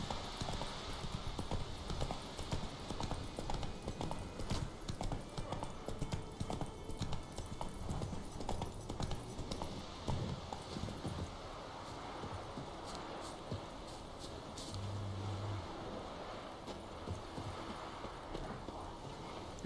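Hooves of Roach, Geralt's horse in The Witcher 3, clop in a quick steady gallop rhythm, close and continuous, easing into a slower gait toward the end.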